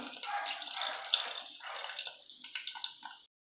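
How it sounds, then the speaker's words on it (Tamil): Soaked tamarind water is poured into a curry pot holding ground paste, giving a close, splashing trickle that wavers for about three seconds, then stops abruptly. "கூடவே ஊற வச்சிருக்க புளி தண்ணியை சேர்த்துக்கலாம்."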